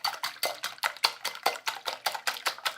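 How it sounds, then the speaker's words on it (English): Eggs whisked briskly in a bowl, a quick steady run of about a dozen sharp clicking strokes, close and clear with no talking. "we're going to whisk this, like so"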